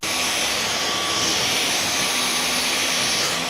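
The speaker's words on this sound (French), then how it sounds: "I have the most powerful vacuum cleaner in the world." A Dyson bagless vacuum cleaner runs with a steady, loud, continuous whooshing roar that holds at the same level throughout, alone without any talk.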